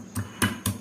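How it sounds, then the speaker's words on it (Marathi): Three quick, dull thuds come close together as seven or eight garlic cloves are crushed in a mortar and pestle, each knock short and fairly loud with nothing else around it. "आता एका खलबत्त्यामध्ये आपण थोडासा लसूण ठेचून घेऊया"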